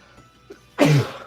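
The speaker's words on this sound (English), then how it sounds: "Hold on, let me sneeze." A single loud, close sneeze bursts out after a quiet moment and a faint sniff, then fades quickly.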